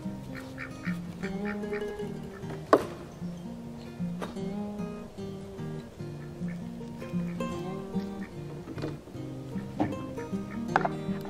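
Ducks and geese on a farm quack and honk in a busy, overlapping chorus. The calls sound close and repeat steadily with no talking, and one louder honk stands out partway through.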